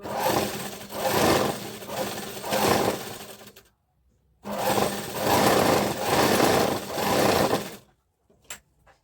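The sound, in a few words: electric motor-driven sewing machine stitching a blouse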